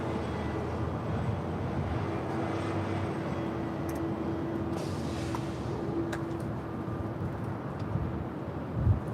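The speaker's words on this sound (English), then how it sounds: "That is Delta Airlines Flight 2554 and that A350-900 heading back to Atlanta." A Delta Air Lines Airbus A350-900 jet at LAX, bound for Atlanta, gives a steady distant engine rumble with a faint whine held across the whole stretch, no voices.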